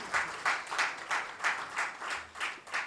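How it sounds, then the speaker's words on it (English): An audience at a regional council gathering claps for its central and regional council leaders in rhythmic, pulsing waves of applause that fill the room steadily. "I request all of you to congratulate them with a big round of applause for the leaders of our Central Council and Regional Council of our region"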